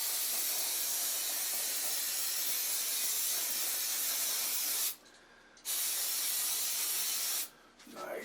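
Cleaner is sprayed onto the circuit board of an early-1970s Ampeg SVT bass amp in steady, close, hissing bursts. It lasts several seconds, with two short pauses near the end.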